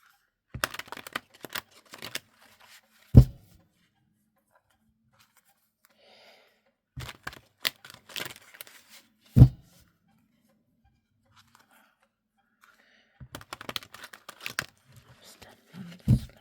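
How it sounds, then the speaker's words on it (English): Tarot cards handled and drawn during a reading: dry papery flicks, taps and shuffles in short scattered clusters, close and quiet, with a few sharper knocks and long silent gaps. "I'm now going to get you 6 tarot cards"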